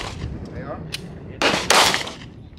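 Gunfire at an outdoor shooting range: two sharp, loud, close shots in quick succession near the end, following a stretch of people talking.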